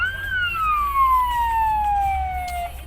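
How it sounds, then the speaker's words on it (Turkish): An ambulance siren wails with a single long falling tone over a low engine rumble in traffic, fairly close and steady. "Ambulans bizim arkada mı?"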